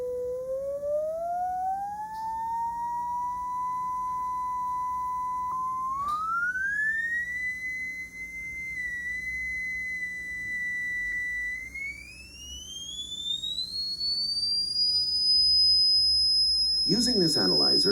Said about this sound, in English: the cursor will now be moved from 100 Hz up to 10 kHz with an audio oscillator set to each frequency